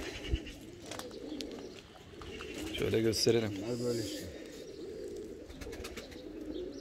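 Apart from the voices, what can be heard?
Van pigeons cooing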